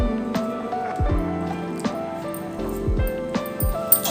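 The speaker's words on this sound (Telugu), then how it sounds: "ఇప్పుడు కొంచెం కొంచెం వాటర్ వేసుకుంటూ కలుపుకోవాలి." Samosa dough being kneaded by hand as water is added a little at a time, with wet squishing and soft slaps repeating about once a second, close and alone.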